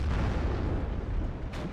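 In a World War II tank battle in the game Steel Division: Normandy 44, a deep gun report booms out and rumbles heavily for a moment before fading.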